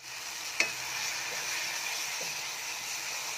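Egg biryani masala with coriander and mint leaves is stirred in a pan, producing a soft continuous sizzle with one sharp utensil tap near the start and faint scraping, quiet and close, with no talking.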